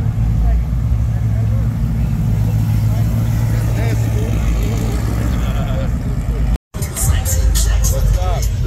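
Deep rumbling idle of a 454 Monte Carlo's engine at a small evening car cruise, a loud steady low throb with crowd chatter around it and a brief cut near the end before the rumble resumes.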